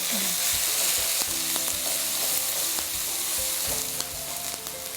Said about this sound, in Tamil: அதுக்கப்புறம் ஜீரா ஃப்ரை ஆனதுக்கப்புறம் ஜிஞ்சர், க்ரீன் சில்லி, இது ரெண்டும் நல்லா ரோஸ்ட் ஆகணும்.